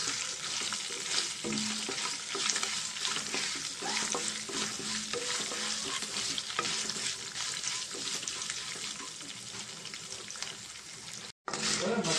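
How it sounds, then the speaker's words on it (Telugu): Steady crackling sizzle of curry leaves frying in hot oil, continuous and fairly quiet, with a brief cutout near the end. "దీంట్లో కొంచెం కరివేపాకు ఫ్రై చేసుకున్నామండి ఎర్రగా బాగా ఫ్రై అవ్వాలి"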